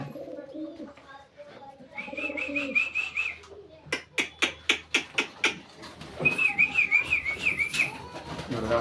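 Pigeons cooing and calling around a loft as a keeper calls them back, with a run of sharp rhythmic claps or wingbeats in the middle, low voices murmuring in the background throughout.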